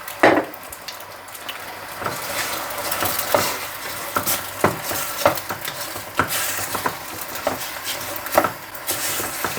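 Tomato sauce cooking over a hot fire, with a steady sizzle and bubbling punctuated by scraping, clattering stirs of a utensil in the pan, close and fairly loud, with no talking.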